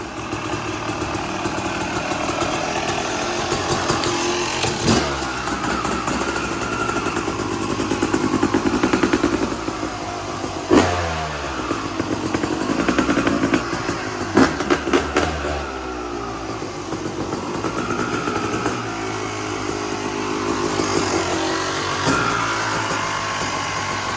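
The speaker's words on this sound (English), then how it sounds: "Let's test this bike out." A Yamaha YZ250 big-wheel two-stroke dirt bike runs continuously and fairly loud close by, its engine holding a steady buzz with occasional rises and dips in revs as it rides, and no one speaks.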